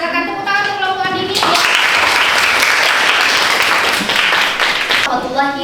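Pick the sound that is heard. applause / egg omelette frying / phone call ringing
applause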